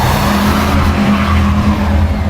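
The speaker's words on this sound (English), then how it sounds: "The tires spun on the ice for this terrifying second before catching" A loud, steady roar of car tires spinning and skidding on ice with engine rumble underneath, continuous for a couple of seconds.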